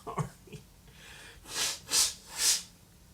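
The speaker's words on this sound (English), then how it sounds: "I gotta blow my nose." Three breathy nose blows, each a short rushing hiss, come in steady succession after a couple of faint sniffs, close up and fairly quiet.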